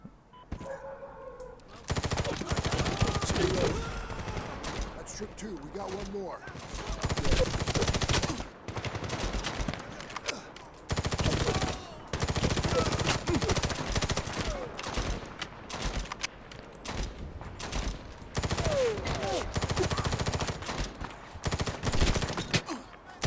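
Gunfire in the video game Medal of Honor (2010): long bursts of machine-gun fire and rapid shots, loud and sustained, with brief pauses between volleys.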